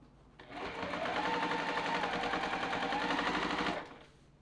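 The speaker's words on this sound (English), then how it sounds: "I'm just gonna pull the machine over and sew it right here" A sewing machine stitches the seams of a rag quilt in one continuous run of about three seconds, a fast, even mechanical whirr with a rapid needle rattle that starts and stops abruptly, close by and alone.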